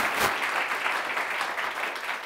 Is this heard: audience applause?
yes